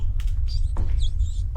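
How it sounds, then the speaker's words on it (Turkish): High-pitched squeaks and faint scurrying patter from a small mouse in a horror video game, over a low rumbling game background, brief chirps in short bursts. "Fare o."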